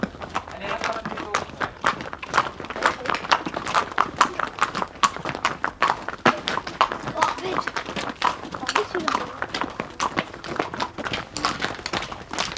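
Pony hooves clip-clopping in a steady walking rhythm as the animal is led at a riding lesson, close and distinct, with a person talking over it.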